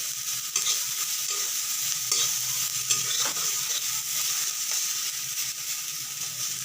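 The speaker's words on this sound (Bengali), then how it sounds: "রসুনগুলোকে ভাজা হয়ে গেলে" Garlic frying in a pan for a Bengali dried shrimp paste (chingri shutki bata), with a steady close sizzle and occasional stirring scrapes throughout, no voices.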